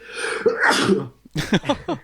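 A sneeze bursts out once, loud and close, during talk over a Hearthstone game, and a few clipped spoken syllables follow right after.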